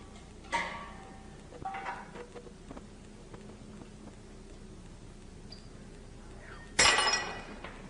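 Glassware breaking in a lab, with a sharp shattering crash early on, a few scattered clinks of pieces after it, and a second louder smash of glass near the end, in a quiet room.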